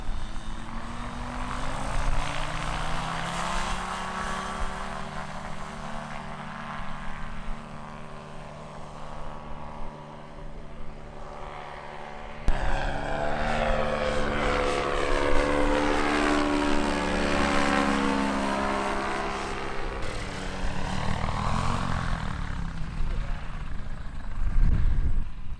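An ultralight aircraft's propeller engine drones steadily, its pitch rising and sweeping as the craft passes and climbs away, loud and sustained throughout with a surge in the middle.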